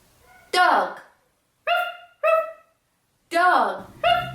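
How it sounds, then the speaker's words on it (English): A dog barks about five times in short, sharp bursts with uneven gaps. The barks are close and clear against a quiet background. "Look at the doggy. It's wagging its tail."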